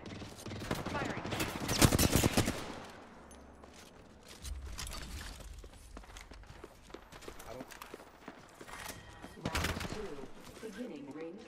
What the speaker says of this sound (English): Getting shot at. Firing.